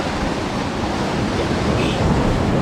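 Ocean waves splash and wash over rocks on an overcast beach, making a continuous close, loud roar of surf with no clear breaks.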